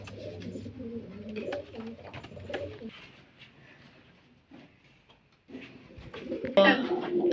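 Pigeons in a pigeon loft give soft, low, repeated cooing close by, with a person talking over and between the calls and a rustling burst near the end.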